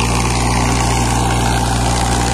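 A Powertrac 50 tractor engine runs steadily with no driver aboard, a loud, constant low diesel drone that fills the whole moment.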